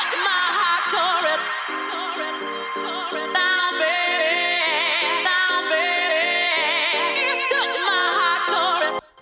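An excerpt of an electronic track plays continuously with layered synth chords and a melodic line, then cuts off abruptly at the end, with no voices.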